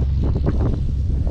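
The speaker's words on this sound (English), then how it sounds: "So it's a little bit on the windy side." Steady wind blows outdoors, a constant low roar buffeting the microphone, loud and continuous with faint rustling and no talk.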